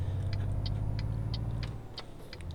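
Truck engine in Euro Truck Simulator 2 hums as a steady low drone with a faint, regular ticking like a turn signal over it, with no talking.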